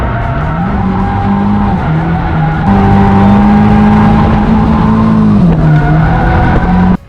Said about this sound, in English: He has turned an EK Civic into a rear-wheel drive drift machine powered by a KA24DE turbo.